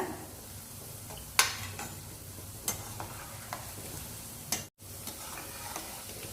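Rava pakoda deep-frying in hot oil, a continuous close sizzle with a few sharp clicks and taps as the pieces are turned over.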